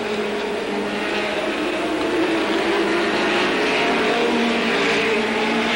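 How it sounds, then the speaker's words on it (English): Late model stock cars roar down the backstretch side by side at Capital in 1985, a loud, continuous engine drone that holds steady throughout with no talk. "Bickle and Arndt running door to door down the backstretch."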